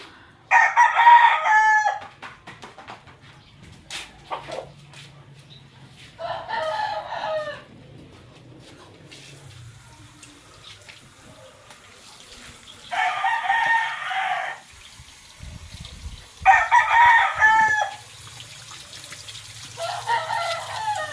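A fighting rooster crows repeatedly, five loud calls spaced a few seconds apart, with quiet background noise in between.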